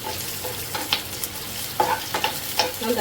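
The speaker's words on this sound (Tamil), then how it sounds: "நல்லா வதக்கிக்கோங்க" Ten shallots, whole garlic cloves and about ten dried red chillies are sautéed in oil, giving a steady close sizzle broken by several scraping stirs and clicks of the spoon on the pan.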